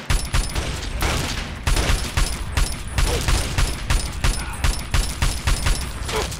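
Rapid gunfire in the video game Fallout 3, a dense fusillade of sharp cracks and booms that repeats steadily and loudly throughout, with no pause between volleys.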